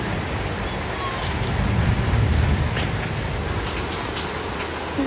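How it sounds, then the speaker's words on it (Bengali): Heavy rain pours down in a steady, dense hiss that holds at an even level throughout, with no distinct drops or thunder standing out. "এখন বলতে বলতে বৃষ্টি আরম্ভ হয়ে গেছে"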